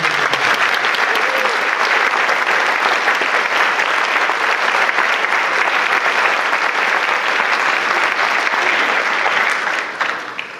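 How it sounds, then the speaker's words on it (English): A crowd at a Memorial Day ceremony in Jefferson, Wisconsin applauds a high school band, steady dense clapping holding at full strength for about ten seconds before tapering at the end. "How about another round of applause for the high school band?"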